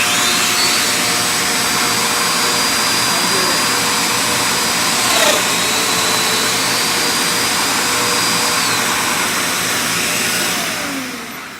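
A Festool Domino joiner cuts a mortise with a shop vacuum running throughout, making a steady loud whine and roar over the whole stretch, with a brief bump midway as the cutter plunges, before fading at the end.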